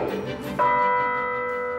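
A church bell in a tower belfry in Dietlingen rings one clear strike partway through, its bright tone ringing on and slowly fading after some faint rustling.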